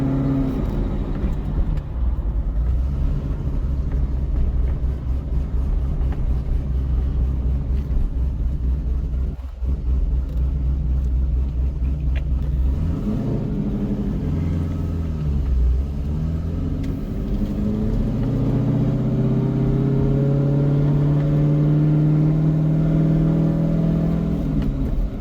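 A C6 Corvette fitted with an aftermarket cam and headers rumbles along at low RPM, its deep, steady exhaust burble loud and close, with the pitch rising and falling gently as it pulls slowly away through a neighborhood.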